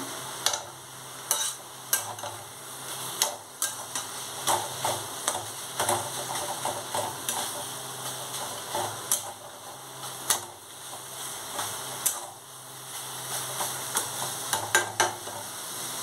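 A spatula stirs a chicken filling made from 500 grams of chicken in a pan. Irregular scraping and tapping strokes repeat throughout over a low, steady sizzle, close and fairly loud, with no voices.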